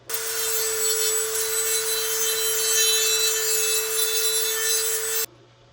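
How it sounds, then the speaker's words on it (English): A Dremel rotary tool smooths the edges of a stormtrooper costume piece with a steady high-pitched whine and gritty grinding that runs unbroken for about five seconds, then cuts off abruptly. "soften these edges with a little bit of Dremel and a little bit of sandpaper and make this nice and smooth all the way around"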